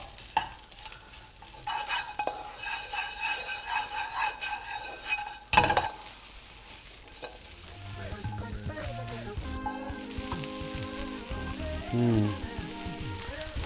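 Broccoli and other vegetables fry in a pan while being stirred, with scraping and clatter, a sharp knock partway through, and a low sizzle that grows more steady toward the end.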